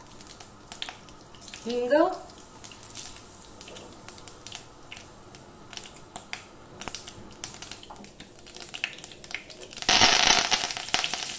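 Mustard seeds crackle in fairly hot oil, giving scattered sharp pops throughout, with a brief spoken word early on and a louder sizzling burst near the end.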